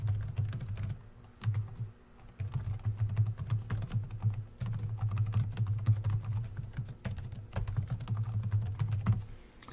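A computer keyboard typed on in quick, uneven bursts of close, crisp key clicks with short pauses between runs, steady low hum beneath, no talk.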